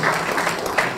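Audience applause at a talk with Matteo Salvini, a dense, steady wash of clapping lasting about a second, fairly loud and continuous with no break.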